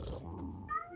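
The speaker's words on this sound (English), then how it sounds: "hear the cat." A cat gives one short, drawn-out meow up close, rising and bending in pitch, moderately loud, with no one speaking.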